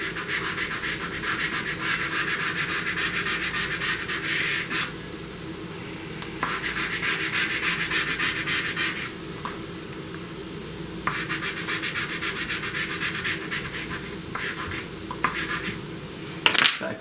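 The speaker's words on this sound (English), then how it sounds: "Let's kind of just rub that into the background a little bit." Light pastel chalk rubs against paper in continuous close scratchy strokes. The sound pauses briefly now and then and no one speaks over it.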